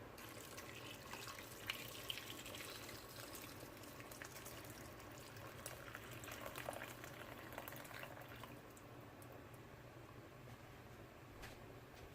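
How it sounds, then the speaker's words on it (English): Water pours into an Instant Pot of Zuppa Toscana soup, a faint, steady splashing and running flow lasting about twelve seconds under low kitchen background noise, with no talking. "Gonna add some more water."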